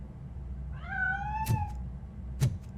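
A cat meows in the video game RoboCop: Rogue City, one drawn-out rising-falling meow, loud and clear, followed by two sharp clicks or thuds against a low game hum.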